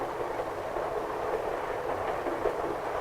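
A vintage passenger train with a dining car rolls along the rails, heard from inside as a steady rumbling roar with a faint rhythmic clatter.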